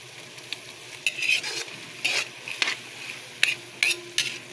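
Salagubang beetles frying in oily pan, stirred with a utensil: a soft continuous sizzle broken by scraping, clicking stirs at irregular intervals, close by and without talk.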